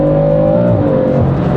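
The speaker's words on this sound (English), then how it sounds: "Sounds so good when it's shifting." A 2016 BMW F80 M3's engine revs hard and loud through gear shifts, its steady drone dropping in pitch at a shift partway through and climbing again right after.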